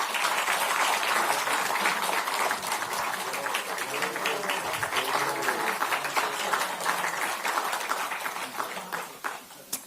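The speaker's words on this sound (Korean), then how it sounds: "그래서 박수 한번 부탁드립니다." Crowd applause at a Korean political party meeting, a steady wash of many hands clapping that carries on for the whole stretch, fairly loud and close, with faint voices mixed in underneath.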